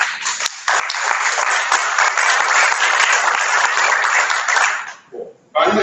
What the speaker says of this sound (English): Let's give those partners a big round of applause